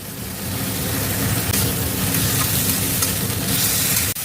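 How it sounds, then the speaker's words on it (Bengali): Chopped onions sizzling in hot oil with salt, a loud, continuous crackling fry with faint stirring scrapes and no talking. "এবার তেলে দেব এই যে পেঁয়াজগুলো রেখে কেটে রেখেছি সেই পেঁয়াজগুলো দিয়ে দেব"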